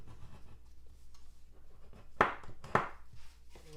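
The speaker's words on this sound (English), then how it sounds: "And then I'm going to use my bone folder on all three of those." A bone folder creases the folded paper tabs of a box card with two firm scraping strokes, close and crisp, amid soft paper handling noises.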